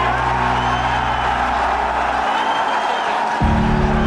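A UFC arena crowd stands and cheers for a championship main event, a loud, sustained roar of whoops and yells with a deep swell near the end.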